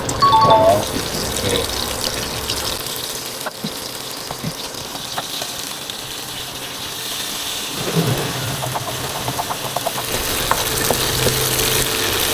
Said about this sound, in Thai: เราจะผัดกะปิให้หอมก่อน แล้วค่อยเอาข้าวเลย